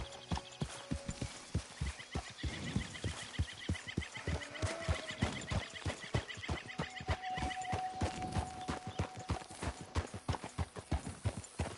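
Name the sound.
horse galloping in video game Red Dead Redemption 2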